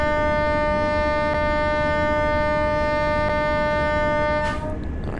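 A level crossing warning ahead of a train in Train Sim World 6, a loud steady electronic alarm tone sustained for about five seconds, then abruptly cut off near the end.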